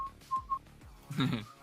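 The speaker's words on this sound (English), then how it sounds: "Just some whistles." Short whistled notes from a person at a tabletop role-play session, a few brief tones spaced apart at close range, followed by a louder burst of noise near the end.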